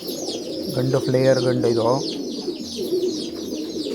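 Pigeons coo in a loft, a few rolling, bubbling coos standing out close by amid faint chirps and rustling, while someone talks over them.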